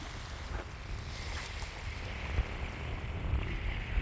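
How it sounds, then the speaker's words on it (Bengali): Sea waves roll in at Lal Kakrar beach beside a mangrove shore, a steady low roar with wind buffeting the microphone and a few brief louder surges, no voices. "ঢেউয়ের গর্জন।"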